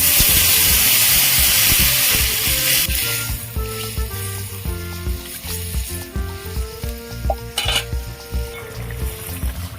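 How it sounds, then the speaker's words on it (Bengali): Bhangon fish curry broth with eggplant simmering in a pot after water is added: a loud, dense hiss at first that eases after a few seconds into a steadier, softer bubbling, with no talking. "ঝোল ফুটে গেছে"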